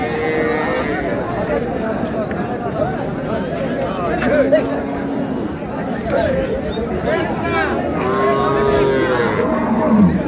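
Cattle low now and then across a busy cattle market among dairy cows and calves, with crowd chatter and voices talking throughout.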